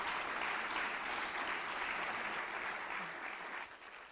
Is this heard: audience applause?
yes